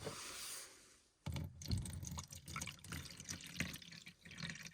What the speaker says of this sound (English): I'm probably only going to add a little over a cup of boiling water.